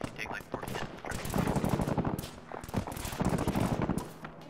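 Rapid bursts of tank gunfire rattle in an Arma 3 firefight on Tanoa, moderately distant and continuous, with someone talking over the shooting.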